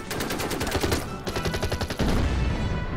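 Heavy units in a World War II strategy video game firing on an anti-tank gun, rapid machine-gun bursts rattling in quick succession with a short pause and renewed heavier fire, loud and dense.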